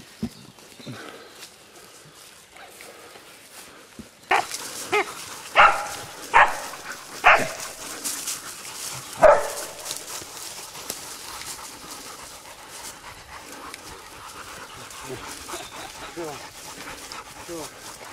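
Hunting dogs bark during a wild boar hunt in Croatia, with a run of several sharp, loud barks in the middle, set between panting, rustling and people talking outdoors.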